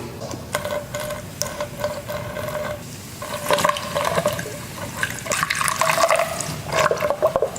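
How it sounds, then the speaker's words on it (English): Baking soda solution is poured slowly into the cells of a battery, giving close, continuous splashing and gurgling that swells and fades as each cell fills. "next we're going to start pouring it in and filling each cell"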